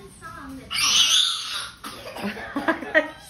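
A young child gives a raspy cough-like outburst followed by breathy, choppy vocal sounds, close to the listener.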